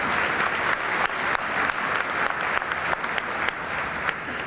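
A large audience at the 2012 Jefferson College commencement applauds continuously, a dense, steady wash of many hands with a few sharper individual claps standing out, sustained for over four seconds without talk.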